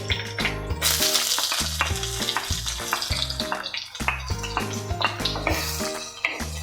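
Finely chopped small onions frying in a pan, a busy crackling sizzle with stirring and scraping clatter throughout, close and loud with no voices.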